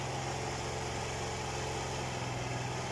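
A freshly rebuilt Khors 051 motorcycle engine idles steadily and close up, a continuous low rumbling throb with a loud, even pulse and no talk for the whole stretch.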